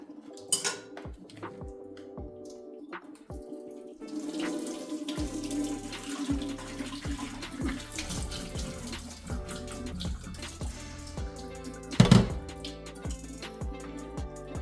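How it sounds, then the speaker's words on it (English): Cold water runs steadily from a tap into a sink as noodles are rinsed, with dishes and utensils clinking and a sharp clatter near the end. "And rinse it with cold water."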